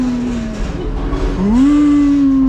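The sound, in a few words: voice imitating ghost sounds for Halloween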